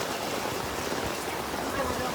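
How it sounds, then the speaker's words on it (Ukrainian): Rain pours steadily at an outdoor aquapark, a dense, even hiss of drops hitting water and pavement that holds at a constant, fairly close level with no breaks. "Дощ лупаше, капі."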